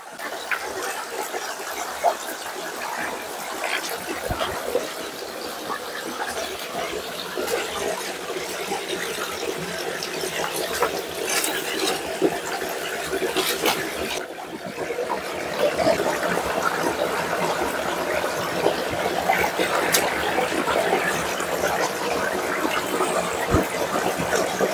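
Cold hill water from the forest pouring into an old hand-cut stone pond: a continuous rushing, splashing flow that grows slightly louder and fuller in the second half, with no voices.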